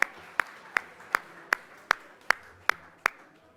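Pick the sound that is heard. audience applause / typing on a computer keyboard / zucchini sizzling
audience applause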